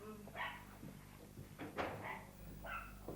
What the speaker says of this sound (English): Ah, little doggy barking.